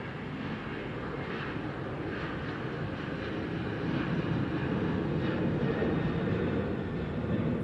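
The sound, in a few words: American Airlines Boeing 737 jet taking off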